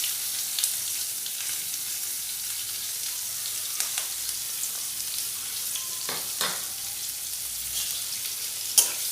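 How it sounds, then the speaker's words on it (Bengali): Chopped onions and slit green chillies fry in a pan, a soft, steady sizzle up close with occasional clicks and scrapes of stirring, no voices. "দিয়ে পেঁয়াজগুলো খুব ভালোভাবে ভেজে নেব।"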